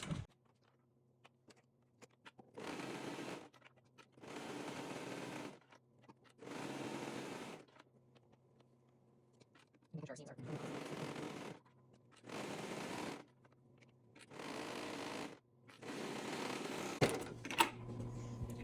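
Serger sewing machine stitching all the way around a balaclava hood piece, running in about seven sustained whirring bursts of roughly a second each, separated by short quiet gaps and handling noises.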